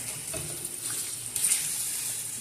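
Chili sauce for chicken wings sizzles in a pan while tomato ketchup is stirred in, giving a steady close frying hiss with soft wet scraping. The sizzle swells briefly midway and no one speaks.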